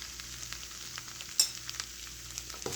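Black chickpeas sizzling steadily in a hot pan as they are stir-fried with chat masala, with soft scraping stirs and one brief sharp clink of the spoon.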